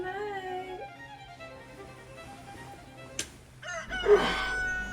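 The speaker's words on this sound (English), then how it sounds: "I don't know why I edited rooster noises in." A rooster crows loud and close near the start, its drawn-out call rising and falling, dubbed over a quiet nighttime scene in a small pod-style rental. Other faint sounds follow later.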